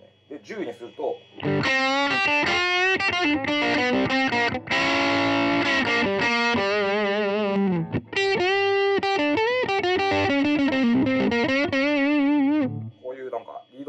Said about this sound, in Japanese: こういうなんかリードまでいけちゃうようになるっていうエフェクターです。